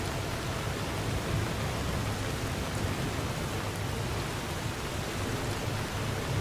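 Steady rain falls in the video game Skyrim at night along a forest path near Riverwood, a constant even hiss of drops with no speech heard.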